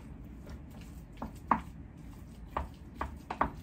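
Guacamole being mixed in a bowl: faint, scattered soft squishy taps and scrapes, about six or seven irregular strikes over a quiet background, with no talking.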